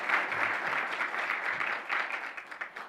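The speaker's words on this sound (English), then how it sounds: "And Mark Zaromsky, another round of applause for you, please." Audience at an honors brunch breaking into a sustained round of applause, many hands clapping together in a dense, steady patter that swells briefly and then tapers off.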